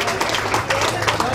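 A crowd at a gathering gives a colleague from Poza Redonda Cuarta steady applause, a dense wash of many hands clapping close by.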